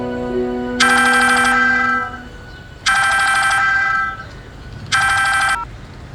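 A telephone rings three times in evenly spaced electronic bursts before the call is picked up, loud and close, with a faint musical tone fading underneath at the start and no talking.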